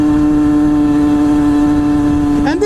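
A Famel XF-17 motorcycle engine holds a loud, steady buzzing drone on a test ride, then its pitch starts climbing right at the end as it picks up revs.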